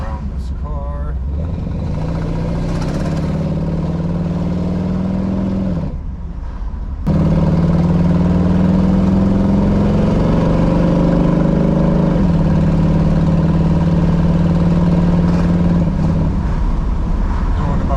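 A 1964 Chevrolet Impala SS with a swapped 350 V8 rumbles steadily through its side pipes, a loud, close exhaust drone that briefly drops out around six seconds, then returns stronger with rising and falling revs.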